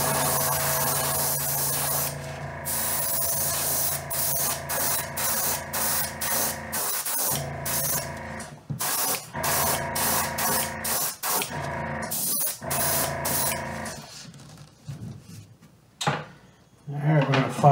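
An aerosol or airbrush sprays a coat of fluorescent yellow paint onto a fishing lure in a series of close hissing bursts, long at first, then short repeated puffs, before trailing off.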